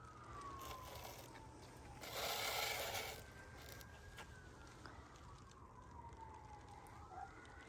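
Faint, distant sirens wail in rising and falling sweeps outdoors before a snowstorm, heard over steady background noise and a brief louder rushing burst.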